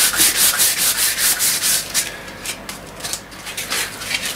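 Sandpaper rubbing back and forth along the ash wood of a snooker cue, a loud, steady rhythmic scratching of quick strokes close up, with no talking.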